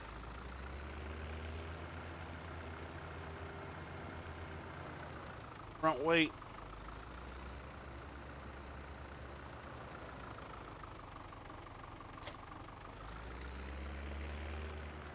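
A tractor engine idles steadily in the Farming Simulator 17 video game, with a low, continuous drone throughout. A short burst of speech cuts in briefly near the middle.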